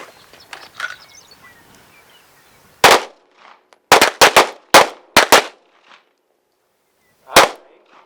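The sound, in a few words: two pistol shots fired at a shooting range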